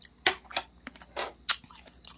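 Close, crisp chewing of homemade peach nectar pieces made from peach skins, several distinct wet crunchy bites spaced irregularly over a quiet background, no talking.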